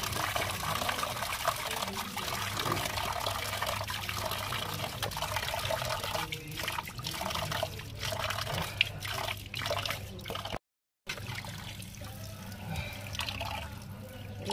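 Pomfret fish are rinsed in water for a curry, with continuous splashing, trickling and dripping close by, moderately loud. There is a brief dropout near the end, and no one speaks.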